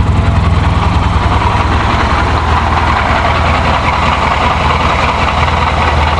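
A 1984 Shelby's engine idles steadily and close by, a continuous low rumble with a slightly shaky, uneven pulse and no talking over it.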